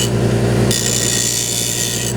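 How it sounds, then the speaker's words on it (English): A steel hand-plane blade for a dado plane is held at a skew angle against a spinning grinding stone with light pressure, giving a steady, continuous close-up grinding hiss with a sharper, brighter rasp partway through. "I'm going to hold the blade at the skew angle and gently grind."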